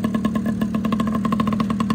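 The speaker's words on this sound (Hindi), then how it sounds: "वो बाइक चल गई भाई चल गई" A motorcycle engine runs nearby at a steady idle, producing a loud, rhythmic putter of evenly spaced pulses with no voices over it.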